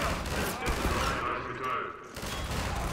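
Gunfire rattles in the video game Half-Life 2, a dense burst of shots that stops briefly and resumes, mixed with game noise while players talk.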